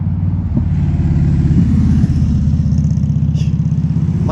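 Car and motorcycle engines rumbling steadily past on a road, close and loud throughout, with a brief rattle near the start and a faint higher whine toward the end.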